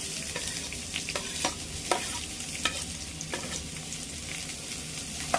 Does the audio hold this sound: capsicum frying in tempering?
yes